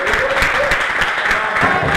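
Applause from a gathering honouring Morgane Justine at a sports club evening, a loud, dense, continuous clapping crowd throughout with no break.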